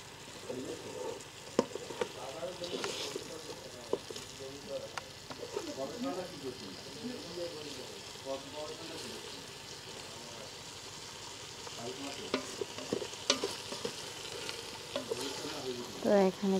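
Broiler chicken stirs and fries in a rice cooker, a soft continuous sizzle with scraping and clinking stirs scattered throughout, quiet and close, while a person talks intermittently over the cooking.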